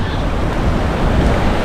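Strong wind buffets the microphone at a low-tide seashore, a continuous loud rumbling roar blended with the wash of surf, no break across the short stretch.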